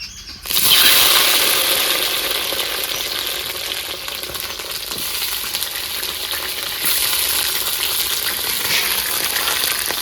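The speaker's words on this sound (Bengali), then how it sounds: "এই বেগুনগুলো এবার তেলে দিয়ে দেবো" Eggplant slices that had been soaked in salt water hit hot oil in a pan, with a loud steady sizzle that swells on contact and then holds, rising again near the end.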